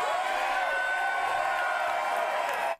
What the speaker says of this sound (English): A very enthused crowd. Very the guy in the background. There's always some guy in the background. Yeah, man, yelling out.